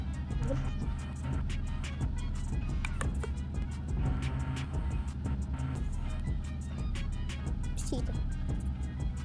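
A car engine in a driving video game skill test hums continuously with steady tonal drone and clicking ticks, while someone talks over the game sound.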